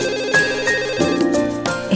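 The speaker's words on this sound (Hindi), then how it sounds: "आंटी प्रेम का ही फोन है।" A phone ringtone plays loudly as a repeating melodic tone pattern, steady for two seconds with no voices over it.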